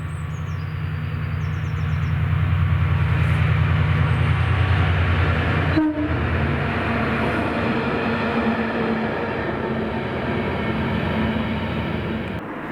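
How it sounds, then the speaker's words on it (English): A Hunterston to Sellafield flask freight train passes on a Scottish line behind locomotives 68007 and 88005, with a deep throbbing engine drone fading into steady rolling rumble and wheel clatter, loud and continuous, with a brief thud midway. "there is only one train booked to use this line, which is 6M23, the 1322 from Hunterston to Sellafield Flasks"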